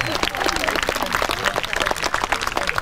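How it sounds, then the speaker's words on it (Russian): An audience bursts into applause for explorer Fyodor Konyukhov at a press event, a short burst of dense clapping mixed with crowd noise and voices. "и шквальными аплодисментами!"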